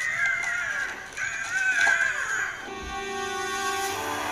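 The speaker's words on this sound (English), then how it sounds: "whose bird is that?" Animated bird from an Avatar: The Last Airbender episode, letting out a loud harsh screeching caw in the first half, followed by a lingering tonal musical sound.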